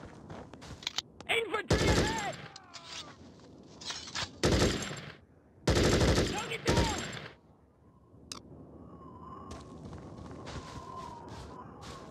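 Bursts of rifle and machine-gun fire in the war video game Conflict: Desert Storm, several loud volleys separated by short gaps, with shouted voices between them and faint footsteps.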